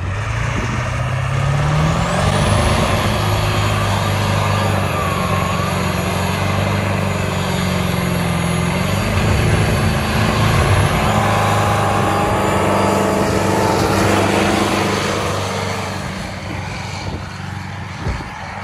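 A 7.3 Powerstroke diesel truck with a lope tune runs loud and steady on wet roads, its deep engine drone and rumbling idle filling the whole stretch with no talking.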